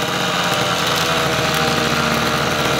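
A small model airplane engine runs steadily at close range, a loud, buzzing, high-revving drone with constant vibration and no speech over it.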